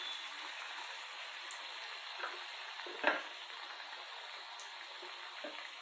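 Sliced potatoes or okra (bhindi) frying in hot oil in a home kitchen, a steady dense sizzle and crackle running throughout, with one sharper pop midway and no voices.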